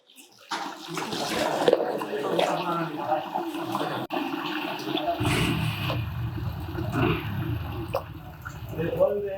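Water splashes and pours while lamb intestines are washed by hand during butchering, a continuous running, sloshing wash that deepens partway through, with talk in the background.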